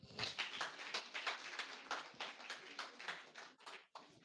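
A church congregation clapping in acclaim of Jesus, a rapid run of rhythmic handclaps at moderate distance, briefly dropping out near the end.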